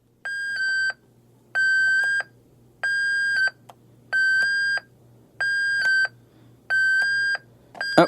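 Repeated electronic beeping from a 1994 Hess Rescue Truck toy, six evenly spaced bursts of bright tonal bleeps, each about a second long with short gaps, against a low steady hum.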